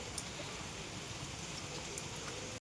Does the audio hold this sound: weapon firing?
no